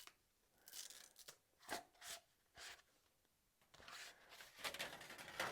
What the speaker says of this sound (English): We're going to unwrap this.